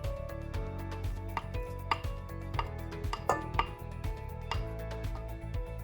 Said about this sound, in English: Take a spatula and make sure that you scrape out all the butter out of your dish.